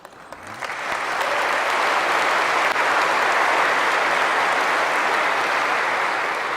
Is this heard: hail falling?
no